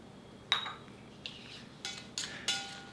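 Eggs being mixed with climbing wattle (cha-om) in a bowl for a thick fried egg dish: a handful of light clinks and taps of utensil against the bowl, close and quiet, spaced irregularly over a faint background, with no talking.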